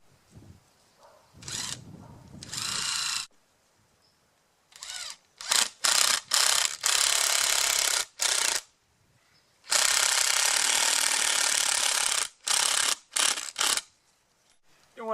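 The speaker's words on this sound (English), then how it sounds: "I'm going to pre-drill for these screws." A power drill whirs in repeated bursts, pre-drilling screw holes in PVC fittings, some short and some sustained for several seconds, with quiet pauses between runs and no talking.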